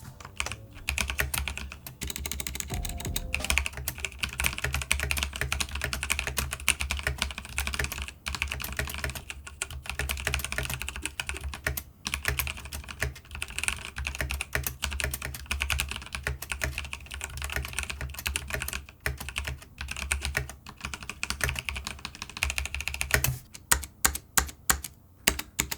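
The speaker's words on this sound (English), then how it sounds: "let's test the Logitech GX red switches." Rapid, continuous typing on a Logitech G Pro X keyboard fitted with GX Red linear switches, close and clear, with dense key clacks throughout and a burst of sharper strokes near the end.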